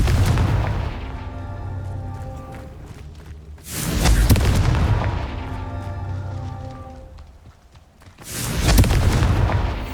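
Confringo fire spell blasts in the video game Hogwarts Legacy: three loud, booming explosive bursts spaced a few seconds apart, each followed by a rumbling tail over a steady background.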